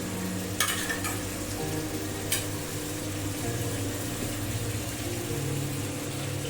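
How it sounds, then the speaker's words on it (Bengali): Bengali-style chicken curry with fried potatoes sautéing in a pan, a steady close sizzle with soft stirring scrapes and a couple of brief clinks. "আরো 5-7 মিনিটের মতন আমি মাংসটাকে কষাবো।"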